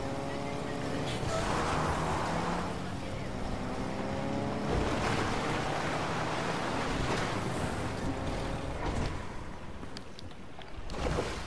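A character swims through water in Fortnite, a constant rushing splash and whoosh of wave-like noise with soft bursts throughout, while players chat over it.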